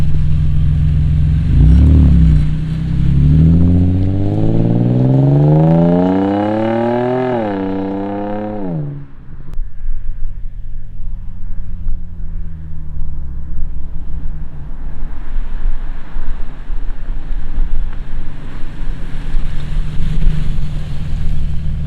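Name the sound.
Nissan G35 with Rev 9 catback exhaust starting up and revving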